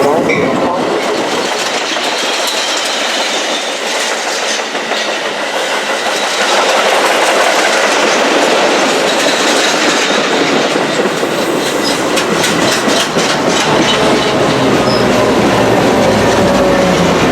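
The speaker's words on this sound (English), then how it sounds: "BNSF train number 2021 to Aurora is arriving." A BNSF commuter train to Aurora rolls into a Chicago-area station, rumbling wheels and rail clatter building loudly, with faint voices in the background.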